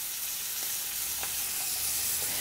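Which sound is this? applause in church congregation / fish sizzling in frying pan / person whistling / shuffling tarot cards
fish sizzling in frying pan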